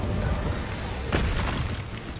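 A fire-spell blast from Hogwarts Legacy: a single soft whooshing burst of flame in the middle, set against a steady low rumble of game ambience.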